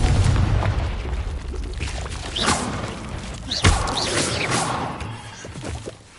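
Confringo blasting spell exploding in Hogwarts Legacy, a sustained loud rumbling blast with crashing thuds around 2.4 and 3.7 seconds, fading toward the end amid game effects.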